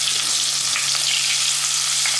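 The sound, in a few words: chopped onion frying in a pan with sugar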